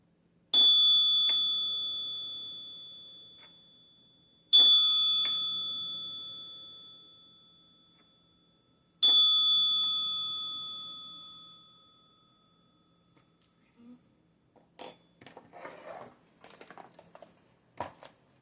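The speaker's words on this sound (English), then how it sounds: "I'll be ringing that bell in 3, 2, 1." A single bell is struck three times at even intervals, about four seconds apart. Each strike gives a clear, bright ring that fades slowly, and a few soft clicks and taps follow.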